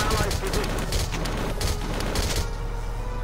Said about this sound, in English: Yeah, keep on firing, buddy.